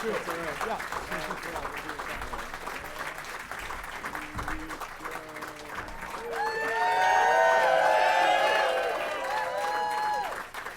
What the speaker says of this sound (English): Forcing you to stand and clap for a while we take a picture.